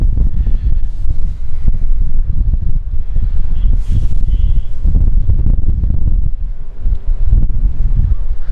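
Strong wind buffets the microphone at London City airport, heavy low rumbling gusts pushing and easing in constant surges, close and loud throughout.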